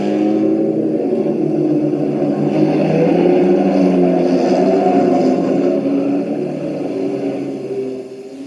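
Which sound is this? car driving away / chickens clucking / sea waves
car driving away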